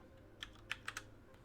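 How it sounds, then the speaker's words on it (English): Faint, quick clicks of keys on a computer keyboard as a short code is typed in, about four light keystrokes in a quiet room. "Type in that code."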